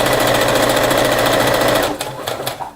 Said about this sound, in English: And we are sewing,